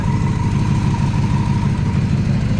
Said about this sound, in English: Look at that, off a high idle. It seems like it's got a little shake to it.